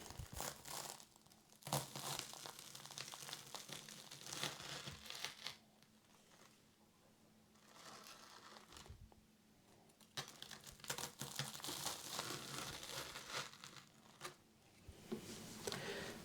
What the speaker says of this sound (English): we have some lovely wholemeal bread that has now been toasted. And you want to cut this triangularly.